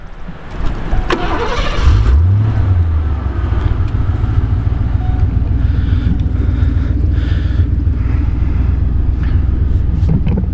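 A Lincoln Continental Mark VII cranks briefly, catches and settles into a steady, loud idle with a deep, even rumble, heard up close and alone.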